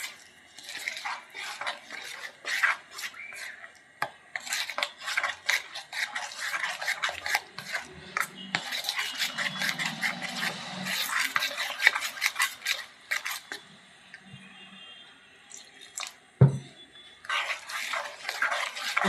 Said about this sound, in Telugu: దోసపిండిలాగా కలుపుకోవాలి. మనం వేసుకున్న ఇంగ్రీడియంట్స్ అన్నీ బాగా పిండిలో కలిసిపోవాలి.